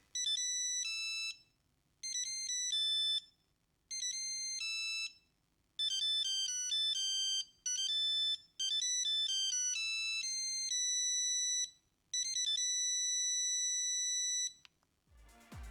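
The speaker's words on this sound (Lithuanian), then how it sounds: "Šiame telefone turime vieną parsiųstą melodiją. Galime ją paklausyti." A bright, electronic monophonic ringtone melody from a Nokia 3210 phone plays in repeated phrases with short pauses between them, clear and close.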